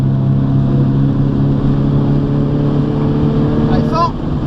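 Car engine under throttle on a road drive in the Bourbonnais countryside with a driving instructor, a steady loud engine drone holding through the clip with a brief rising whine near the end.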